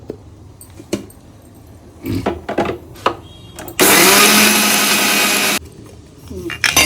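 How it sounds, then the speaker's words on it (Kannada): A mixer grinder grinds roasted sesame seeds in a loud, steady whirring burst of about two seconds, framed by handling clatter and knocks before and after. "ಎಳ್ಳು ಹುರಿದ್ಬಿಟ್ಟು ಮಿಕ್ಸಿಗೆ ಗ್ರೈಂಡರ್ ಮಾಡೋದು"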